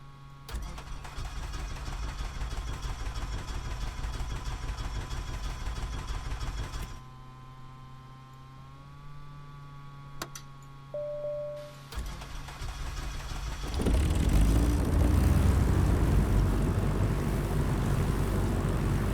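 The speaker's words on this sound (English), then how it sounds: "Just let those engines warm up a bit." A Van's RV-8 propeller engine in a flight simulator game cranks and catches, settling into a steady rough drone, then revs up louder toward the end; close and continuous, no talking.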